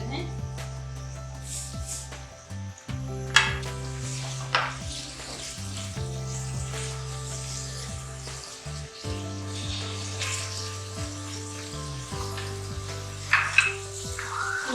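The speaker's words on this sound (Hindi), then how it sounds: "अब हम ये डाल रहे हैं प्याज तकरीबन हमारे पास 3 अदद हैं।" Onions go into melted fat for a mutton stew and sizzle steadily in the pan, a continuous frying hiss with occasional stirring clatter, under someone speaking and a sustained musical background.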